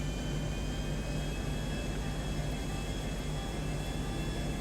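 An airplane comes in to land in Grand Theft Auto V, its engine a steady, unbroken jet roar that fills the whole stretch at even loudness.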